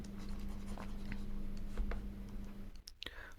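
Pen or pencil writing on paper, a steady soft scratching with a few brief strokes, fairly close and quiet over a constant low hum, with no talking.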